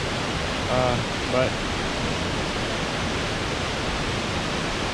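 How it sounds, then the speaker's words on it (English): A creek and a section of waterfalls on a hike, heard as a steady broadband rushing of water throughout, with someone briefly speaking over it. "that back there is the section of waterfalls that I ended up shooting last time I was here"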